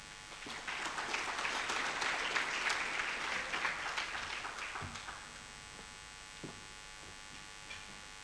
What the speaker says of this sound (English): Another round of applause for the judge, the tax ombudsman.